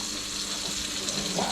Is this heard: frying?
yes